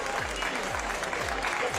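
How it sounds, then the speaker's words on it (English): A soccer stadium crowd applauds, a broad wash of clapping and crowd noise, with a voice talking over it and deep rhythmic musical thumps underneath. "stadium applauding for them."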